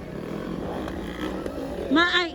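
A Kawasaki KX250 motocross motorcycle engine drones steadily through a 2025 Executive 40-up final heat in Cogon, El Salvador City. It runs with moderate loudness beneath crowd noise and announcer talk, and a brief rising whine comes near the end.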